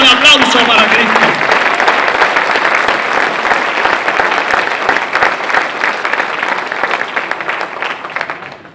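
A church congregation breaks into loud, sustained applause, a dense wash of many hands clapping that fills the room and slowly thins toward the end, with a voice briefly audible at the start.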